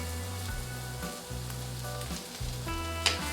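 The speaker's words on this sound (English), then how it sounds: "we're gonna keep sauteing for another 2 minutes or so" Mushrooms for a truffle cheese burger sauté with onions in a hot pan, giving a continuous close sizzle broken by a few stirring scrapes and one sharp clink of a utensil.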